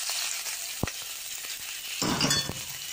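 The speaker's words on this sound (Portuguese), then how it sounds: "Vamos deixar dar uma fritadinha boa até murchar, bem murchadinho" Chopped onion and garlic frying in lard in a home kitchen, a steady close sizzle with a brief clink of utensil on pan and a louder burst of crackling about two-thirds through.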